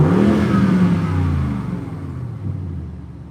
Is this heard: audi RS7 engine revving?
yes